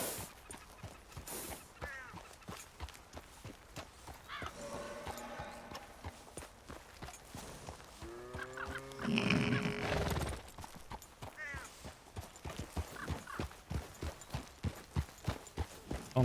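Horse in Red Dead Redemption 2 galloping, rapid rhythmic hoofbeats pounding throughout with a couple of loud whinnies and snorts in the middle, close and continuous.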